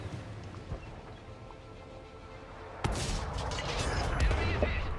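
Hellcat tank destroyer firing HEAT shells in World of Tanks, a single sharp, loud cannon blast that breaks a quiet engine hum and leaves a long booming, rumbling tail.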